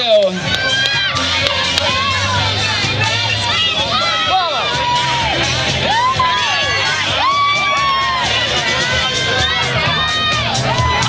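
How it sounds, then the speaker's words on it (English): A crowd at an outdoor jalapeño eating contest cheers and shouts loudly and without a break, children's high yells and whoops rising above the babble of voices. "Judges, audience, cheer your favorite contestant on now."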